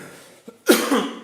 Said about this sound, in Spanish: Estoy con tos, disculpad,